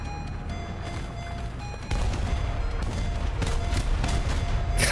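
Anti-aircraft gun in War Thunder firing loud rapid bursts that turn into a dense, sustained stream of shots, heard up close with no talking.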